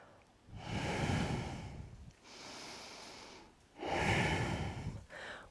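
Slow, deep breaths are taken while holding a yoga pose during a vinyasa flow, three long inhale and exhale cycles close to the microphone with short gaps between them.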